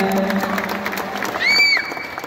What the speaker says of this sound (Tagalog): Wala po ba palakpakan dyan?